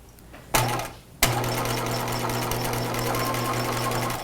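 A sewing machine runs steadily as it stitches around a pajama neckline, a constant motor hum after two brief starts, close and alone with no talk.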